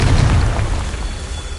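A Confringo fire spell bursting in Hogwarts Legacy, a loud, close, booming explosion that rumbles and fades over about a second and a half.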